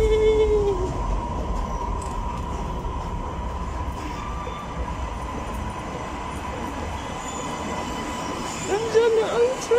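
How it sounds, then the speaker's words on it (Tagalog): A train pulls into a station, its steady rumble filling the scene with squealing wheels rising near the start and again at the end, while people can be heard in the background. "Nandiyan na ang train!"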